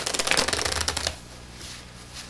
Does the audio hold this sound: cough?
no